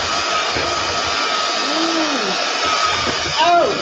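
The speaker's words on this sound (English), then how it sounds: "I'm turning on my mixer." An electric mixer combining butterbeer with marshmallow cream, a loud steady whir that runs unbroken throughout, with a voice briefly rising over it near the end.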